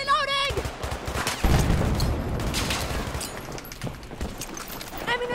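Rapid gunfire from the Battlefield 2042 shooter game: dense bursts of automatic shots crackling close and loud after a short electronic tone, continuing through the clip over a busy battle din.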